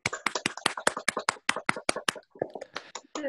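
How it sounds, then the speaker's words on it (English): Hand claps from an online theatre festival audience applauding playwrights and directors, a quick burst of close, sharp claps that thins out and turns irregular near the end. "So let's give them a round of applause."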